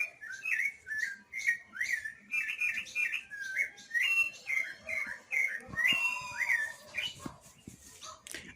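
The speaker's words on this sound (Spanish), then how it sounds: "nos encontramos en una zona en donde nosotros podemos estar escuchando ahora sí que el canto de las aves" Wild birds sing in a rural area where a baby hummingbird lives, with clear repeated whistled phrases and chirps close by, steady and rhythmic and with no talk over them.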